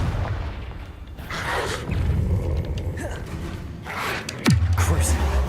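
A Confringo explosion spell is cast in Hogwarts Legacy, giving a loud booming blast near the end that drops into a deep rumbling tail, with other combat spell effects and game sounds throughout.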